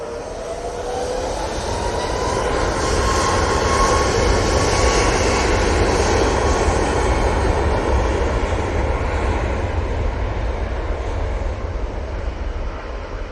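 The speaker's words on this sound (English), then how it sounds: "Coming in from London Heathrow Airport, we have this Airbus A380." An Airbus A380 arrives at Manchester Airport from London Heathrow, passing low over a road with a loud, sustained engine roar and a faint rising whine that holds for most of the pass before easing off; no one speaks.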